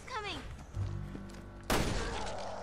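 A gunshot sounds in the video game Resident Evil Revelations 2 as a single loud, sharp burst late in the moment, following game sounds and a faint voice.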